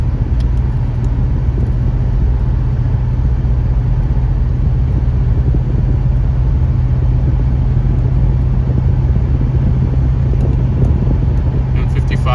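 Interior cabin noise of a 1986 Oldsmobile 442 cruising at about 50 mph, a constant deep road and engine rumble with steady wind hiss, unbroken and fairly loud throughout.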